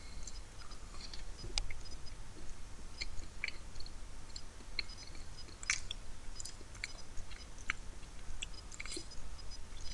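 Someone chews a Cadbury One Direction chocolate Easter egg up close, with soft repeated crunches and wet mouth sounds over quiet background hiss and no talking.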